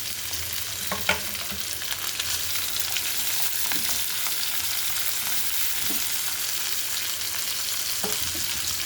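Onion and green chillies fry in a pan for an aubergine-tomato masala curry, a steady close sizzle with a few light stirring clicks and no talking.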